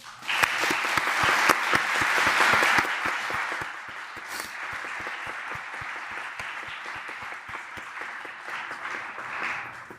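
Applause from a conference audience at a Catholic keynote event, dense clapping swelling loudly early on and then settling into a steady, slightly softer ovation that fills the hall without any talk.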